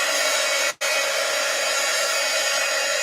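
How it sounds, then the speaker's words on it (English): Hair dryer blowing on wet paint in an art journal, a steady close whoosh that cuts out for a split second, then carries on evenly, no talk. "Let's get this dried. Maybe dry this paint a little."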